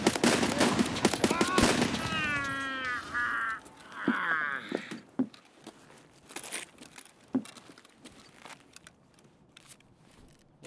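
Suppressed gunfire in the Escape from Tarkov shooter: a quick run of muffled, sharp cracks in the first seconds, then a few scattered single shots, fairly close and dry, with no talk.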